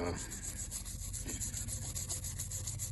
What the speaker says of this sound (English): put a little brush through all the little oil-way holes. Right, so there you go, paintbrush, petrol, and you brush it down